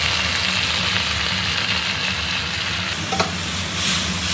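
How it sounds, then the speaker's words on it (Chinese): Swimming crab pan-frying with scallion, ginger and garlic, a steady loud sizzle that fills the whole clip, with one brief clink near the end and no talking. "稍微煎一煎，然后我们给它翻过来。"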